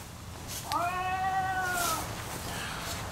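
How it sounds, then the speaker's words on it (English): A single drawn-out electronic cat meow from an animated Halloween tombstone prop, clear and fairly close, rising then sliding down over about a second, with faint background hiss and no talking. "And there's sound as well for the cat."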